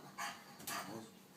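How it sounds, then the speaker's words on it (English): Stevie, a blind dog, gives two quick, fairly faint barks in close succession, sharp and short, with nothing else around them. "why are you barking?"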